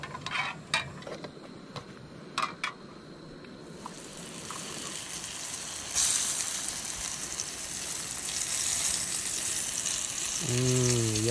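Fresh fish fillets sizzle in a pan over a campfire in the Yukon wilderness, a steady frying hiss that swells louder midway and keeps going, with a few sharp clinks of cookware early on.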